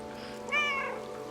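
Cat meowing in the video game Stray: a single clear, rising-and-falling meow, close and prominent over a quiet ambient game background.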